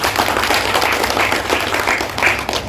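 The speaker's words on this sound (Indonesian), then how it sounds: "Tepuk tangan." Audience applause at the final of a chess league in Tangerang, loud close clapping from a crowd with sharp individual claps standing out, sustained throughout.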